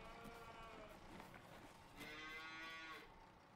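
Holstein cows in the Farming Simulator 19 video game let out drawn-out moos, one after another, heard alone against a quiet farmyard background.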